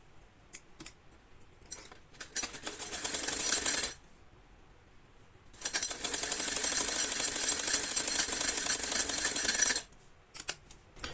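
A sewing machine runs while stitching the shoulder seam of a girl's frock, with two bursts of fast, steady whirring, one brief and one longer, set apart by a pause and some small clicks.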